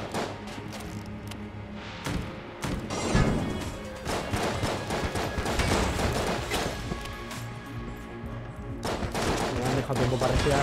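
Rapid bursts of gunfire in Enter the Gungeon crackle and crash continuously, dense and loud, with explosive impacts layered throughout.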